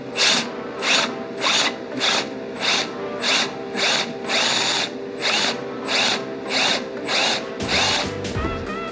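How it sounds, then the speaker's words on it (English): Power drill working on a motorcycle during a riser install, a loud, close whine pulsing in steady bursts about twice a second for several seconds, followed by a brief clunk at the end. "After that, you can just go. With the drill."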